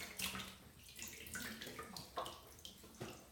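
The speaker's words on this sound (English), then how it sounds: "Have some hot water here in the sink." Hot water runs from a tap into a bathroom sink, a steady close splashing stream with small gurgles and splashes, heard on its own without talk.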